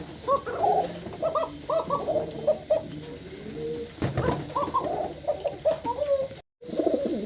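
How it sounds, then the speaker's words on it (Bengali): Owl pigeons, one red and one white, coo repeatedly in a steady run of soft, throaty calls, close by and clear, with a brief dropout near the end. "আউল কবুতর দেখাচ্ছি, একটা লাল একটা সাদা"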